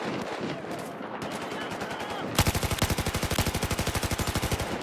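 MG4 machine gun in Battlefield 4 opening up in a long, steady rapid-fire burst, loud and close, after a few seconds of softer scattered shots and background battle noise.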